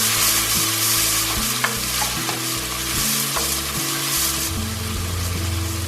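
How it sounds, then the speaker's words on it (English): Tomatoes fry with a steady loud sizzle in a pan for an Indian cabbage and potato curry, with repeated scraping stirs cutting through the constant crackle and no talking. "I'm going to cook these tomatoes for about 2 minutes till it softens a little bit"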